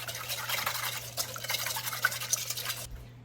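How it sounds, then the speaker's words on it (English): A whisk beats olive oil with salt and pepper into a dressing, giving quick, soft rhythmic scraping and sloshing close by that stops abruptly near the end. "We're gonna whisk this together."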